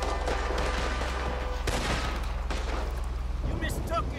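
Gunfire in Red Dead Redemption 2 during a shootout, a run of sharp shots and booms scattered through the clip under steady ambient rumble, with character voices speaking in between.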